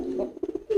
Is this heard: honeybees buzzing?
no